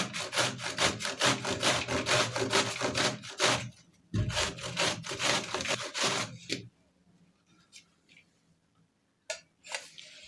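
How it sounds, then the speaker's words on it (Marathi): Peeled raw mango rubbed on a hand grater in rapid rhythmic rasping strokes, close and loud, then stopping and giving way to near quiet with a few scattered scrapes and taps. "इथे मी खिसणी घेतलेली आहे आणि कैरी आहे ती खिसून घेते"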